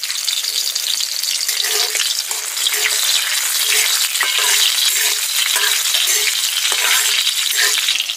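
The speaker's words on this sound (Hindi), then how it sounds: "तड़का हमारा तड़क गया है" Tempering spices crackle in hot ghee or oil for a tadka, a loud, close, continuous sizzle dense with sharp pops and spits throughout, with no voices.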